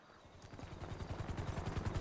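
A GTA 5 helicopter's rotor thumps in a fast, steady rhythm, swelling louder over two seconds as it draws nearer.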